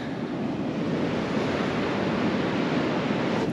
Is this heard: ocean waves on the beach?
yes